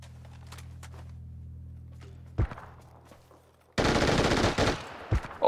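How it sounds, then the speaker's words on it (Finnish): Video game gunfire erupts as a sudden loud burst of rapid shots after quieter thumps and footsteps, the volley continuing densely to the end. "Joo joo, mä tiedän, mä ammuin sitä."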